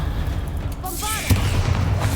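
A Bombarda blasting spell going off in Hogwarts Legacy, a deep booming blast with a sharp onset near the middle followed by a rumbling tail, with a spoken voice and whooshing spell effects around it.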